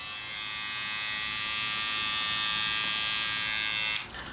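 Wahl A-Lign cordless trimmer switched on and running as a steady, fairly quiet high electric buzz held for several seconds, ending with a small click or handling sound.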